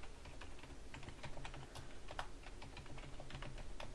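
Steady typing on a computer keyboard while a small C++ program is entered, a continuous patter of quick, light key clicks at a quiet, even level with no talking.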